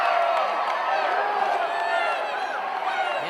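A wrestling crowd at a Great North Wrestling show in Hawkesbury chants for tables during a hardcore match. The sound is a steady, fairly loud roar of many voices with no break in it.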